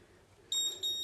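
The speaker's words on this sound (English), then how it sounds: "Oh, it's beeping at me now. It's making noises." Colp E-mark printer giving a short electronic beep, a bright tone that starts halfway through and pulses twice, quiet and close with no talk.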